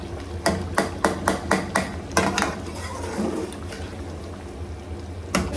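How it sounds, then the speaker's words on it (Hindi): Mutton karahi being stir-fried over a full flame, with a spatula striking the wok in a quick run of regular metallic clanks, then softer stirring and a final clank. "हम इसको तेज़ आंच पे, फुल आंच पे इसको अच्छे से भून लेंगे।"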